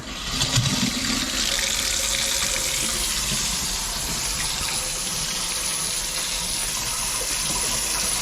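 Water runs from a sink faucet fed by new PEX-B supply lines, a steady close hiss and splash that starts with a brief gush and then flows evenly, with no talking.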